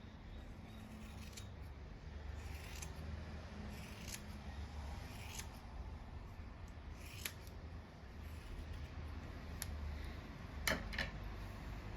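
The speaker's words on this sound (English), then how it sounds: "I will cut this off as well." Scissors snip through the finished handwoven fabric in a string of sharp, close clicks spaced a second or so apart, over steady low room noise.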